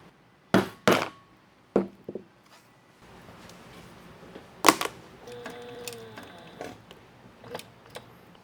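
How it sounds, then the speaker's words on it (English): A sewing machine works on a sample piece of leather and waxed canvas. Sharp knocks and clacks come first, then a short stretch of faint whirring stitching with mechanical ticks, close by and fairly quiet. "Always remember to sew on a sample piece before you start."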